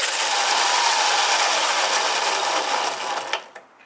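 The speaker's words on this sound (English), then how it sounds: "Now you can see the chain jumping there a little bit." The chain runs and jumps on a homemade sprocket of a Razor E300 electric scooter, making a loud, close, continuous whirring rattle with a lumpy mechanical edge. It winds down and cuts out just before the end.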